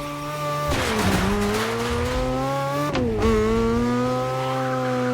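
A Ferrari 488 GT3 race car in The Crew Motorfest roars loud and close, its engine note sweeping up through gear changes with brief dips at each shift and a steady high rev between.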